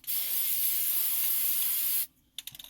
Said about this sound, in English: Spray some of the paint